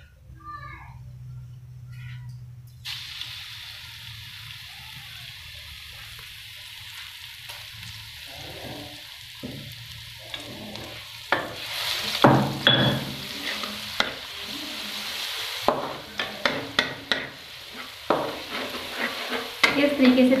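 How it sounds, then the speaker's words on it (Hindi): Ginger garlic paste hits hot oil in a wok and sizzles with crackling bursts, growing louder partway through, mixed with stirring clatter and the occasional clank of a utensil. "लहसुन का पेस्ट शामिल कर दूंगी।"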